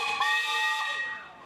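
A single loud whistle from a steam traction engine at a steam show blasts with a bright, harmonic tone and breathy hiss, then tapers off as it fades.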